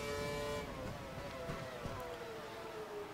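A Formula One car engine in the F1 2012 racing game at Hockenheim drones steadily at high revs, its tone shifting after a moment as it pulls out of a hairpin, quiet and continuous throughout.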